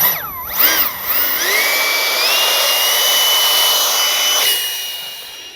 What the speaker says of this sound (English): Motor hot and ready.